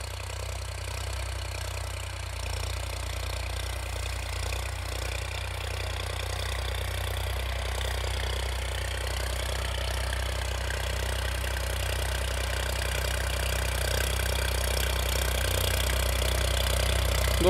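A New Holland 3630 tractor engine, a 16x28-size model, idles with a steady low, even rumble and faint knocking, close and constant for the whole stretch with no talk over it.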